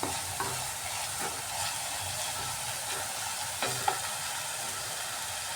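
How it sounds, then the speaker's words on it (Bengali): Spice paste being stir-fried in oil for egg tikka masala, steady close sizzling and frying with repeated scraping stirs of a spatula against the pan. "এইভাবে মশলাটাকে কষাতে হবে যতক্ষণ না মশলা থেকে তেল ছেড়ে আসছে"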